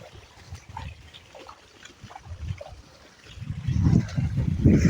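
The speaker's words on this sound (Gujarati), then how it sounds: "આ પાણી જઈ રહ્યું છે" Irrigation water trickles and gurgles through a farm field near a jujube tree, faint at first and then growing to a fuller, louder burbling flow toward the end, with no talk.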